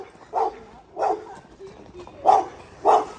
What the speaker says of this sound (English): He barks at us every time we come by.